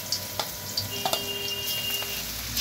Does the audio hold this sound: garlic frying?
yes